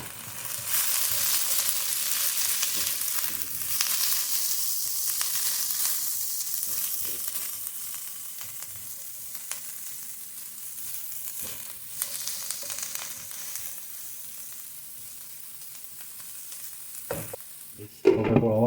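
Minced brown onions fry in a pan with a constant crackling sizzle, loudest at the start and slowly easing. A few soft knocks and a brief clatter come near the end, and nobody speaks.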